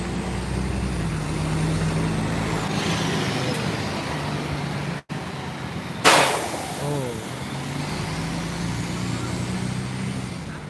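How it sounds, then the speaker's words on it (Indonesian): Double-decker bus pulling away from a bus terminal, a steady engine and traffic rumble with a loud hiss of air around the middle, while voices talk nearby over the noise. "Oke, double decker Batista jalan ya."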